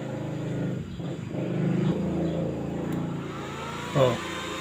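A repaired INGCO inverter welding machine runs with a steady mid-pitched hum, a brief louder surge near the end, with some background noise mixed in.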